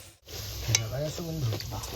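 Luchi, puffed Bengali flatbread, frying one at a time in hot oil at an outdoor village hut on a stormy monsoon day, a steady close sizzle with stirring clinks while a voice talks over it.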